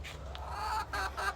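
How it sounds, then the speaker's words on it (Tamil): Native country chickens kept for eggs cluck in short bursts close by, with a steady low hum running underneath and no talk. "கொஞ்சம் கோழி வச்சுருக்கேன், எனக்கு தேவையான நாட்டுக்கோழி"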